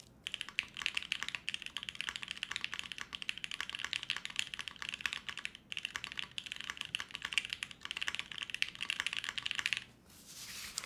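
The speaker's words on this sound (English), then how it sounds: "Listen to this keyboard. This is an awesome sounding keyboard." Rapid, continuous clacking of a Wendy TKL mechanical keyboard, close up, with a few brief pauses in the typing.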